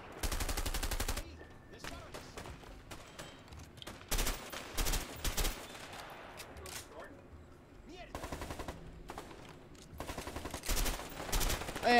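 Gunfire in the co-op video game A Way Out: bursts of rapid automatic shots in several volleys between quieter stretches, with players talking over the action.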